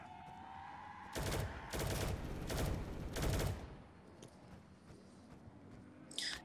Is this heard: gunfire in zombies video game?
yes